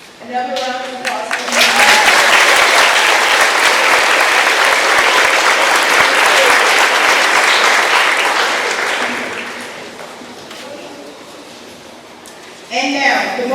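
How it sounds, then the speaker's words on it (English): Audience applauding at a middle school eighth-grade graduation ceremony, a dense sustained wash of clapping that swells in, holds for several seconds and tapers off, with a voice talking before and after. "Another round of applause."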